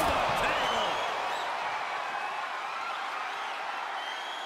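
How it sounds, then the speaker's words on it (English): A large arena crowd roars and cheers continuously in the WWE 2K22 wrestling game during an extreme rules match, a dense loud wash that slowly eases slightly. "The sound of this crowd is deafening, and he's asking for more."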